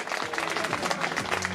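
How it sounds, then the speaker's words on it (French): Spectators applaud a cycling team's presentation at the Classic Grand Besançon Doubs, a steady wash of clapping throughout with faint voices and low tones underneath. "Edouard Prade Reverter, qui complète la formation d'Elco sous les applaudissements ici"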